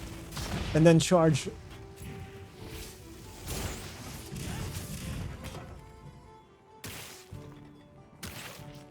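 A Switch Axe explosion from the Monster Hunter Wilds video game, a sharp blast and crash that comes after a charging finisher. Several more impacts follow at a moderate level, and a voice talks over the start.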